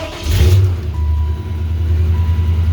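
A 1996 Chevy Impala SS with an aftermarket Pipes Violator exhaust idles with a deep, loud, steady rumble after a short rev at the start.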